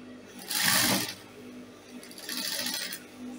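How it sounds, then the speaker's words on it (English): Sewing machine stitching fabric in a straight line along a square neckline, with two short, fairly quiet bursts of rapid needle whirring close by. "I'll stitch it on that straight line, that's the square part of the neckline."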